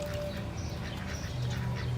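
Ducks at a garden duck pond quack softly in the background, a few low nasal calls over a steady outdoor hum, with no one talking.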